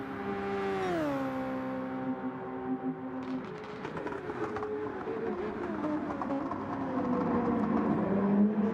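Racing cars in the Gran Turismo video game sweep into a corner, their engines holding a steady whining drone that dips in pitch as they brake, then a rougher layered roar of several cars building again toward the end.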